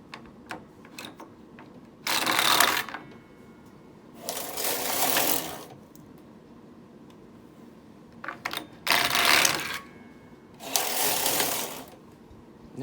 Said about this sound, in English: we always move the Ribmaster carriage first, and then we go across with the Knitmaster